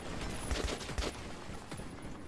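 Video game gunfire aimed at an enemy base: several quick, faint shots crackle in a loose cluster over a steady background wash, fairly distant and low in level.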